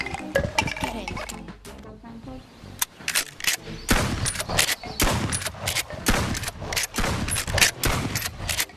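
Rapid bursts of movie-style shotgun fire crack out loud and close, shot after shot in an uneven barrage with metallic clinks between, filling most of the stretch after a brief lull near the start.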